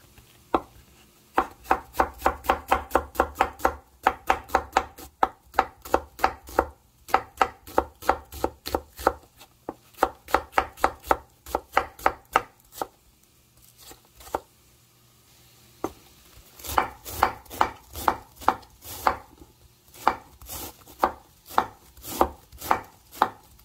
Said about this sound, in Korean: 이렇게 슬라이스처럼 이렇게 썰어서 쓰겠습니다